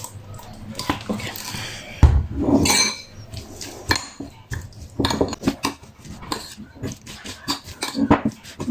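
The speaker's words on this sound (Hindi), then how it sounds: "मैं इसे अच्छे से मिक्स कर लेती हूँ" A spoon scrapes and clinks against a bowl while mixing a food mixture with sugar and white pepper, in irregular bursts of knocks and scrapes, loud and close.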